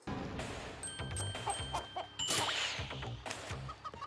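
Chickens cluck quietly in a video game, with short clucks mixed among game chimes and dings in a busy, faint soundscape.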